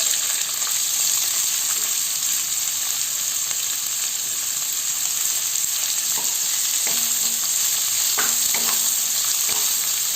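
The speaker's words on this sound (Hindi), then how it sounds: "एकरा हम प्याज के कनी मध्यम से कम आंच में झाँप के भूज लेबै" Two medium onions, thinly sliced, sizzle loudly and steadily in a pan over medium-low heat, a dense continuous hiss with a few faint stirring clinks late on and no voices.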